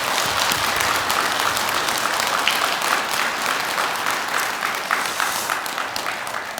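Sustained audience applause fills a Buddhist temple hall during a Saturday dharma lecture, steady dense clapping that stays loud and even from start to finish with no talking over it.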